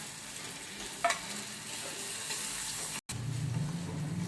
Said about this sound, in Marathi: आपण त्यामध्ये टोमॅटो टाकून परतून घेऊया